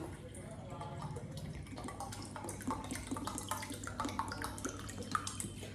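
Water pours steadily into a cooker holding jaggery for sweet jaggery rice, a continuous splashing stream at close range with faint background voices and kitchen noise.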